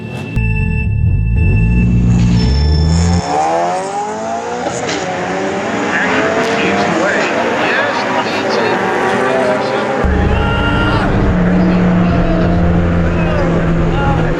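A PT Cruiser and an Acura grudge racing on a drag strip, engines roaring loud and close as they launch and rev through gears over about fourteen seconds, with rising whine and tire noise, and people talking and cheering over it.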